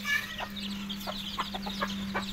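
Desi village chickens in rural Odisha cluck in short repeated bursts, close and fairly loud over a steady background hum, with no talking.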